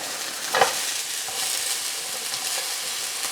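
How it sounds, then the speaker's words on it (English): Frozen Tenderstem broccoli sizzles steadily in a hot frying pan, a broad hissing crackle with a brief clatter near the start as it drops in. "I'm going to add the Tenderstem broccoli"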